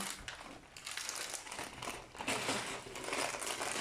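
A plastic bag from a Lego orchid set, bag number one, is torn open with steady close crinkling and crumpling of thin plastic that swells louder toward the end, alone without talk.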